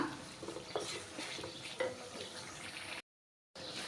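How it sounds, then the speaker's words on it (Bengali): Dried fish curry with spices sautéing in a pan, a soft sizzle with scraping stirs and small clinks, fairly quiet, cutting out briefly near the end. "এটাকে আমি ভালো করে কষিয়ে নিব"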